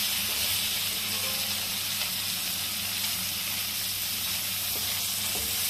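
Capsicum and onion sizzle and fry in a kadhai while being made into a pizza topping, a steady close hiss with no pauses and no talk.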